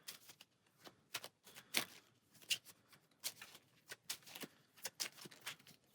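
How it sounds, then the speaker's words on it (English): A deck of cards from the board game Dice Throne Adventures is shuffled in quick repeated riffles and soft slaps, close and fairly quiet, with no talking. "Go ahead and shuffle our deck of cards"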